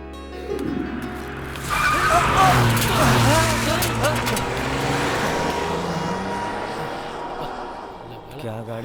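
A car being driven skids with a sharp, sustained tire squeal that surges up and wavers for several seconds before trailing off under engine noise.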